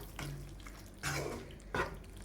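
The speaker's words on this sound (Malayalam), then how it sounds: "കുറച്ച് വെള്ളം ഒന്ന് തെളിച്ച് കൊടുക്കുക." Water is sprinkled over squid pepper masala in a hot pan, giving three short splashy bursts of sizzle and spatter spaced about a second apart, faint against a quiet kitchen background with no talking.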